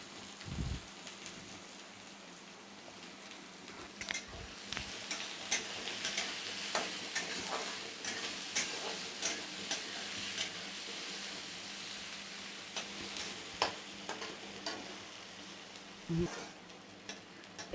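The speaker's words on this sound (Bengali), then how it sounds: "এখন পেঁয়াজগুলোকে ভেজে নেব।" Chopped onions fry in a pan for tadka, a soft continuous sizzle with scattered crackles and pops and occasional clicks of stirring, fairly quiet and close, with no talk.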